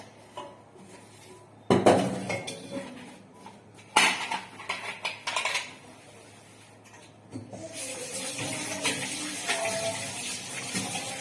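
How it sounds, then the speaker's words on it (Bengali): Dishes and utensils clatter at a kitchen sink, with sharp clanks of pots and cutlery and running water rising toward the end, all close and without talk. "বাসন সব মাজা হয়ে গেছে, যে বেসিনটা ধুয়ে নিচ্ছি।"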